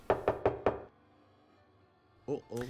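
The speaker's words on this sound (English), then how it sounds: "perhaps if I knock harder, the guard will hear and open the door" Four sharp, evenly spaced knocks on a door in a video game set in a capital city, loud and close, followed by quiet and then a brief voice.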